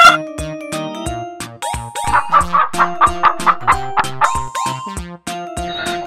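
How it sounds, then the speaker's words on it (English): A cartoon hen clucks in a quick, regular series of close, clear clucks over a cheerful children's tune. "Hen eats grains."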